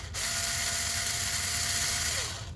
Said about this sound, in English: This is a 2mm bolt wrench.